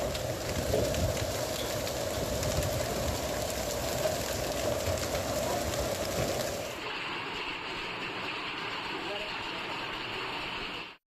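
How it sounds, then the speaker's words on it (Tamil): A sudden afternoon hailstorm under dark clouds pours down in a dense, steady roar of hail and rain. The hiss stays loud and even, then thins abruptly partway through into a quieter, lighter patter. "பிற்பகலில் திடீரென கருமேகங்கள் சூழ்ந்து ஆலங்கட்டி மழை பெய்தது"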